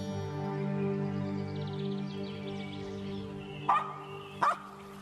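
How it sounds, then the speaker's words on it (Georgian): A dog in a forest gives two short, sharp barks close by, near the end, over a steady droning tonal background. "ასე რატომ ხმაურობ ძაღლო?"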